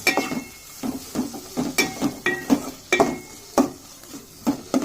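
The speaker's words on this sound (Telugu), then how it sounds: "బాగా యాడ్ చేసేసుకొని మనం కలుపుకున్న తర్వాత బాగా కలుపుకోవాలి, మసాలా అంతా బాగా పట్టేటట్టుగా." A spoon stirs ridge gourd curry in a pan with masala powder just added, giving repeated scraping strokes at a steady rhythm with a light sizzle underneath and occasional clinks of metal on the pan, close and fairly loud.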